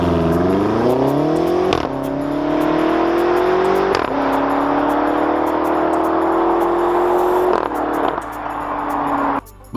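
A 2017 BMW X5M F85 SUV with a twin-turbo V8 pulls hard through the gears, its engine note rising steadily and cut by several brief shift breaks, loud and close throughout.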